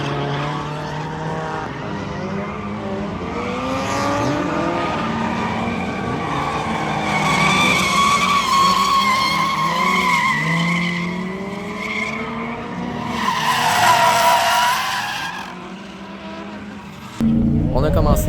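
A car drifting on an outdoor track, with long wavering tire squeals and skids over a revving engine, loud and close, nearly continuous throughout.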